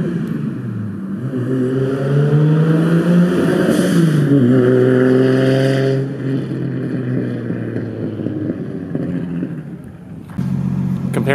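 A Toyota 2JZ car engine revs hard, its pitch climbing and falling through several loud pulls before dropping to a lower idle and then blipping again.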